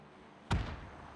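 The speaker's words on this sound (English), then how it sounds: "Nade going off by DA." A single grenade blast in the battle royale game PUBG during a console league match, one sharp, loud boom with a deep rumbling tail that fades slowly over a quiet background.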